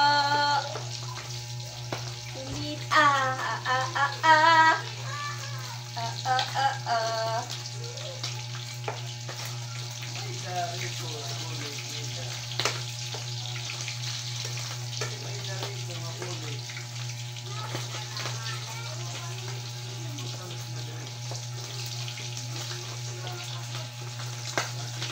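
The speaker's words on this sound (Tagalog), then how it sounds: "Pumipitik yung mantika." Oil crackles and pops in a frying pan with a steady sizzle while frying paksiw, scattered sharp spits over a constant low hum, with faint voices at moments.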